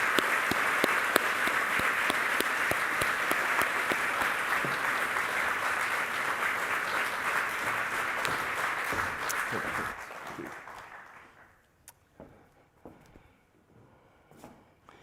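Sustained applause from a lecture audience welcoming a speaker to the stage, dense steady clapping for about ten seconds before thinning out into a few scattered claps and quiet room noise.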